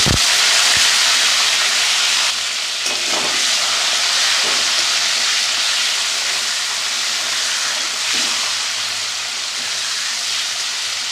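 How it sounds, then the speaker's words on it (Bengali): Paneer cubes, lightly salted, fry in a hot pan, giving a steady, loud sizzle that holds evenly throughout with no one speaking. "আর পনিরটা ভেজে নেব"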